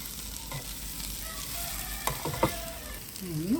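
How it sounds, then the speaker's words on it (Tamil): Fenugreek and spices fry in oil and are stirred together for a Maldives fish (maasi) gravy: a quiet, even sizzle with a few soft scrapes of a spoon against the pan. "எல்லாத்தோடையும் சேர்த்து கலந்து விடுவோம்"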